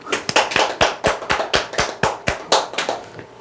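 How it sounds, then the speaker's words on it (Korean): A steady run of separate, sharp hand claps, about a dozen in a regular rhythm, close by with no voices. "박수"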